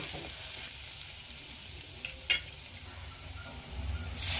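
A masala of onion-garlic spice, red chili, salt, crushed peanuts, roasted gram and sesame sizzles quietly in oil for lasooni methi, a low steady hiss marked by a few sharp clinks of a spoon against the pan.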